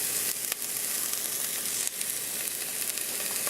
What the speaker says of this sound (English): we're basically just going to saute them up until they are clear.